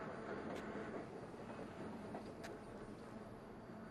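A train passes close by as a woman walks, giving a steady broadband rumble and rolling clatter that fills the whole stretch without voices.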